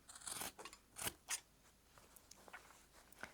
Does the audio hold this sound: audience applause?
no